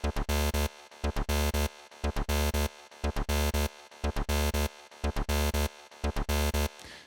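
A harsh, buzzy synthesizer sequence made in Arturia Pigments pulses in rapid rhythmic bursts, with ping-pong delay repeats filling the gaps between notes.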